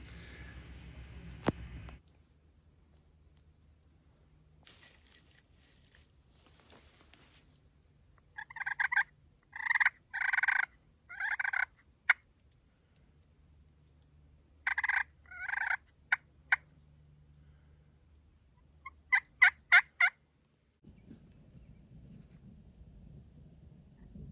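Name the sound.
Merriam's wild turkey gobbling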